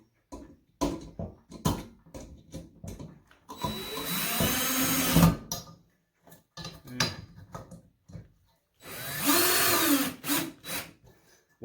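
A power drill drives screws into a ceiling fan mounting bracket in two sustained whirring runs, close and loud, separated by clicks, taps and handling noise.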